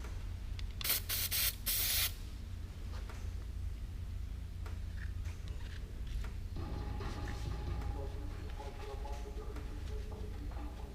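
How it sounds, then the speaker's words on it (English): Lubricant sprays onto a Kubota L series tractor's steering shaft bushing in a loud hiss lasting about a second, then quieter clicks and handling noises follow in a close, quiet setting. "I'd say put a little lubricant on it."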